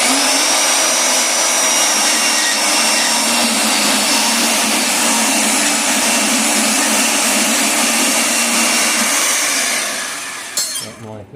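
A power saw with a foot feed cuts through metal stock in a blacksmith's shop, giving a loud, continuous grinding whine that holds steady for about ten seconds before cutting off near the end.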